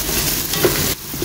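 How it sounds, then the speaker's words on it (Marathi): Whole spices such as cloves and black pepper sizzle with onions in a hot pan, giving a brief, loud, steady frying crackle with a stirring scrape. "ओके, तर हे होल स्पायसीस आतां घालून सोडटा."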